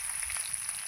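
Potatoes frying in a pan until reddish-brown make a brief, even hiss of sizzling oil, fairly quiet, with no voices.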